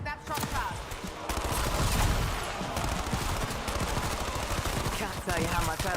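Rapid gunfire pops in a Warzone match: bursts of sharp cracks in quick succession over several seconds, close and punchy, with a voice talking underneath.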